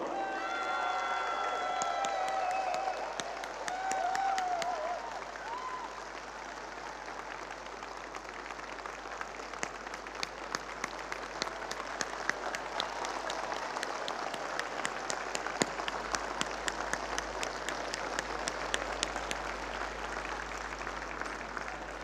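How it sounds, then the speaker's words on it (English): Audience applause at a large global business event, sustained clapping across the hall with some cheering early on and sharper, louder individual claps rising toward the end, continuing steadily for over twenty seconds. "This applause is for you people."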